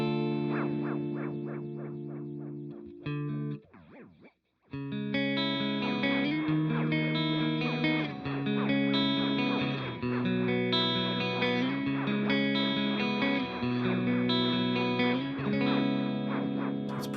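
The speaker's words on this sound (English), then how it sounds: "So let's hear how the modulation sounds, the different waveforms. I'm going to try the triangle first" Electric guitar run through a delay pedal with its modulation set to a triangle waveform and maxed out, giving chords and notes a strong warbling, pitch-wobbling echo that repeats steadily, loud and alone.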